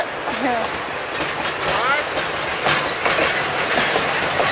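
A diesel locomotive train rumbles past in snowy surroundings, a steady loud roll of rail noise with wheel clatter and a brief squeal, voices faintly audible underneath.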